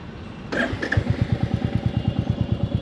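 A Royal Enfield Meteor 350 motorcycle fires up with a short starter crank and settles into a steady, thumping single-cylinder idle, loud and close with an even pulsing rhythm and no talk.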